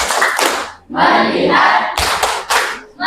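In a school classroom, a group claps in short rhythmic bursts for a focus routine, the claps alternating with chanted voices.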